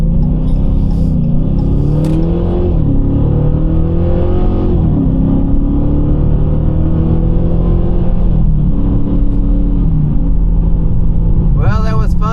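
Totaled Hemi Dodge Challenger accelerating hard on an open highway, a loud, steady engine drone with rising harmonic sweeps at each gear change, heard from inside the car throughout.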